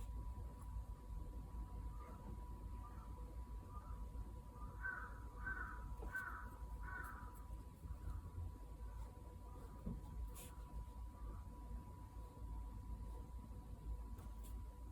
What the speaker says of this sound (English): the jungle crows are going a bit wild outside.